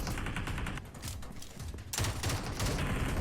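Rapid gunfire in PUBG Mobile on the Sanhok map: dense bursts of automatic shots crackling continuously, briefly thinning before another loud volley fills the rest.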